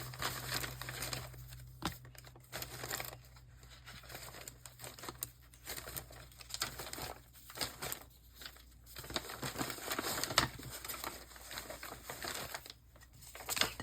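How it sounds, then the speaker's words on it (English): Papers being shuffled and handled at close range, with irregular crinkling and rustling bursts and brief pauses, under a faint steady background hum. "Shuffling through these papers over here."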